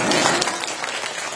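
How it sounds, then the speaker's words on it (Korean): An audience applauds to welcome the South Korean president as he enters; a dense, steady wash of clapping fills the short moment at even loudness. "큰 박수로 환영해 주시기 바랍니다"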